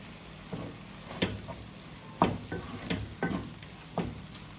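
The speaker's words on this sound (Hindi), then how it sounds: "मैंने 3 अदद सब्ज़ मिर्चें हैं जो काट के रखी हुई थी वो मैं इसमें डाल दूँगी।" Chopped green chillies stirred into frying masala for a stuffed bitter gourd curry: a soft sizzle under a handful of irregular scraping and tapping stirs of a spoon against the pan, close and fairly quiet.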